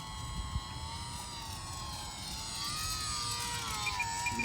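A HobbyZone Champ S+ RC airplane flies tight circles indoors, its small electric motor and propeller giving a steady buzzing whine that rises and dips in pitch as it circles, with no talk.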